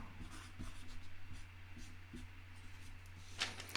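A pen scratches across paper while drawing a dotted half note, with short quiet strokes and taps over a steady low hum, alone without talk.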